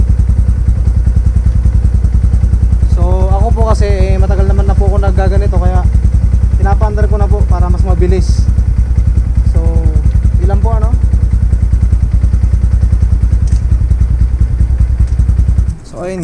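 A motorcycle engine runs steadily close by at a loud, even throb while chain lubricant is applied, with someone talking over it through the middle.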